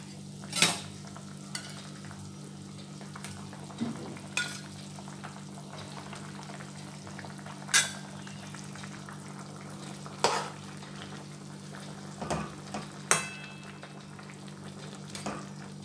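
Okra and egg frying in hot mustard oil in a pan, a steady low sizzle with occasional stirring scrapes and clinks of a utensil, no talking.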